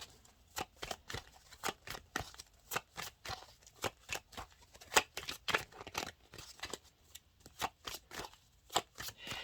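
A tarot deck is riffle-shuffled by hand in quick repeated bursts, card edges snapping and fluttering in a steady close rhythm with no talking.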